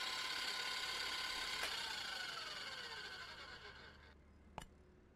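A kneading machine with a whisk attachment whirs in the Cooking Simulator game, a steady mechanical ratcheting hum that gradually winds down, punctuated by two sharp clicks, without talk.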